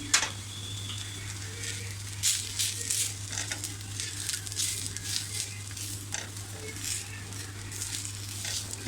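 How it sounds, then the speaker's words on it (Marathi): Dry coconut roasts in a pan for a Malvani-style black bean and potato bhaji, giving off a soft, steady sizzle with light scraping and stirring taps over a constant low hum. "आपल्याला थोडा खोबरं खरपूस होईपर्यंत भाजून घ्यायचं आहे"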